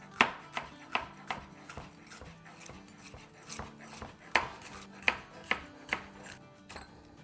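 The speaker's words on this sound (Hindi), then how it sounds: "अब थोड़ा सा इसको छोटे पीस करने के लिए यूँ काट देंगे" Knife chopping vegetables into small pieces on a board for a noodle soup, sharp close taps in an uneven rhythm, heard alone.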